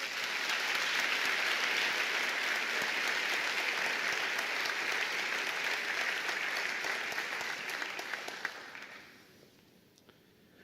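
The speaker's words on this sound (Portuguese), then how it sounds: "Dê um aplauso ao Senhor." A worship congregation claps in a full, even wave of applause for the Lord that holds steady, then fades out over the last couple of seconds into near quiet.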